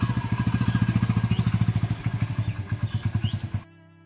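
A motorcycle engine chugs close by in a rapid, even thumping rhythm that slows slightly as it goes, then cuts off abruptly near the end, leaving a faint low hum.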